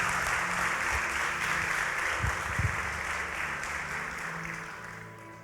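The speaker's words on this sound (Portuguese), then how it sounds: "Pode aplaudir a Jesus." Church congregation applauds steadily through a Portuguese-language sermon, a dense, moderately distant wash of many hands that thins slightly toward the end, with a few low thumps.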